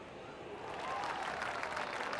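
A crowd applauds athletes before a running and cycling race, a dense, even wash of clapping that swells a little louder partway through and holds steady.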